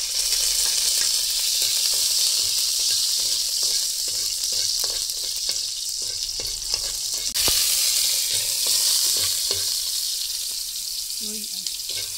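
Chopped chilies and other ingredients frying in a pan, with a loud continuous sizzle and hiss, scraping stirring sounds throughout and a brief voice partway through.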